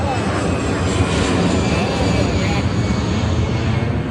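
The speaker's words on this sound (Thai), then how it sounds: "ลองดูมันมีเครื่องบินด้วยนะ" Near an airport, an airplane roars overhead as a loud, steady broadband drone that fills the whole stretch without letting up.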